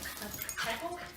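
A young dachshund puppy whimpers softly in short, thin whines, close by, mixed with murmuring voices in the room.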